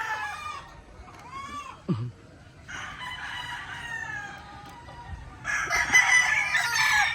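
A molting rooster crows several times, drawn-out harmonic calls repeating through the clip, with a brief thump and some background noise between crows.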